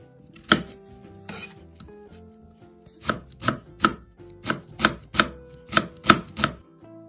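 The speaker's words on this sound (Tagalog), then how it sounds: "Hiwain natin na medyo pino." A knife finely chopping ingredients on a cutting board for fish kinilaw: two isolated cuts, a pause, then a run of about nine evenly spaced, crisp chops, close and clear with no voices.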